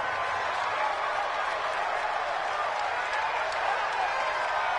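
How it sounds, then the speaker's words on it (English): A steady, dense roar from a stadium crowd fills a football video game broadcast, holding at an even level throughout without distinct cheers or peaks. "The crowd may be losing just a little bit of the edge after back-to-back punts."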